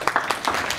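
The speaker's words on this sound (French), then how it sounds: "on peut l'applaudir" An audience claps in a brief burst of applause, several quick hand claps close by.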